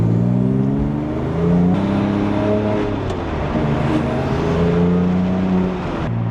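A rebuilt Porsche 997 Turbo is driven with a steady engine drone and harmonic bands that rise and fall gently with light throttle changes, loud and close from inside the cabin, with no talking.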